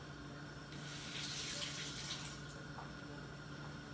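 Water from a kitchen tap runs steadily over a Scotch bonnet pepper as it is rinsed, a continuous close splashing hiss that swells briefly midway, with no talk.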